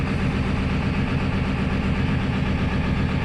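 Old 1993 diesel pickup truck engine running cold at half throttle, a dense, steady rumbling drone with constant vibration and no letup, close and loud.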